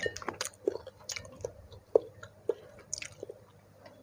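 Close, wet chewing of fish balls served in spicy tom yum yen ta fo noodle soup, with soft squishy bites and smacks repeating irregularly, and no talk.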